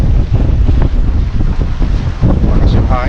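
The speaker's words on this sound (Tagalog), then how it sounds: "malakas yung hangin, ha." Strong wind buffeting the microphone at the seaside pier in Damortis, La Union, a loud continuous roar with rushing gusts and faint surf beneath, while a voice speaks briefly near the end.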